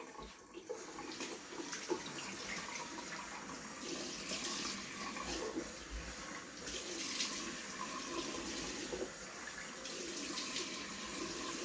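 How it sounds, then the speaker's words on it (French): Water runs steadily from a sink tap throughout while a face is rinsed, a continuous splashing flow with small shifts in intensity and no speech. "Je vais maintenant rincer mon visage."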